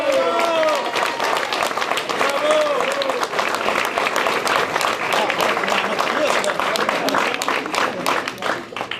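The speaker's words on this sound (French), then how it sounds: "Et on les applaudit." A crowd applauds volunteers at a political nomination event in Berthier, with dense, steady clapping filling the whole stretch and a few voices calling out over it.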